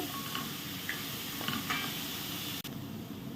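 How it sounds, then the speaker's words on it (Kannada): Food fries in hot oil on a medium flame while Mangalorean-style prawn ghee roast is made, a steady soft sizzle with faint clinks and no voices. "ಸ್ವಲ್ಪ ಸ್ಲೋ ಫ್ಲೇಮಲ್ಲಿ ಮೀಡಿಯಮ್ ಫ್ಲೇಮಲ್ಲಿ ಇದನ್ನು ಚೆನ್ನಾಗಿ ಫ್ರೈ ಮಾಡಿಕೊಳ್ಳಿ"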